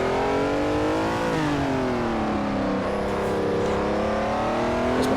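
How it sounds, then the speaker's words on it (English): Ferrari 330 P4 racing car engine in the Assetto Corsa driving game, played on the Targa Florio road course: a loud, steady engine note that sweeps down and back up like a downshift, with no talk over it. "That downshift noise, you'll hear it in a second."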